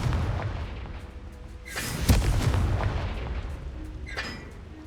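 A Confringo spell explodes in the Hogwarts Legacy video game with a sharp boom and crackling burst, followed by a softer impact, amid low rumbling game ambience.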